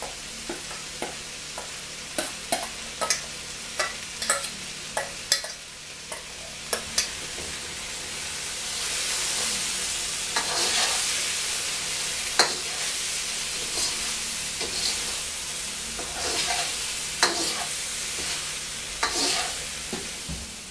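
Squash and potatoes being stirred into a simmering chicken green curry, with a steady sizzle and bubbling under repeated sharp scraping and clinking of the spoon against the pan, close and alone with no talking.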